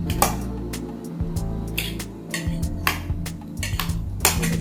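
A metal fork mashes potatoes in a bowl, scraping and clinking in quick, irregular strokes, with ringing metallic pings over a low steady hum.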